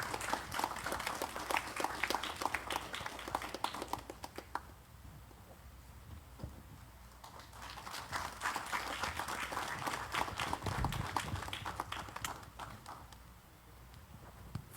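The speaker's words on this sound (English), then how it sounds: "Please give him a round of applause as he comes on stage." A film festival audience applauds steadily as a speaker comes on stage, dips briefly, then swells into a second strong burst of clapping that carries on to the end.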